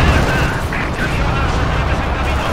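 Dense, continuous rattling machine-gun fire in Company of Heroes 2, loud and close, with rumbling booms underneath and no clear speech.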